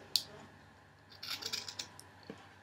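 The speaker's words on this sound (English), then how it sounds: "I'm just going to cut it so it's like square." Tim Holtz tonic scissors snip through a piece of craft ribbon, a sharp near snip followed by a short run of quick, crisp cuts in a quiet room.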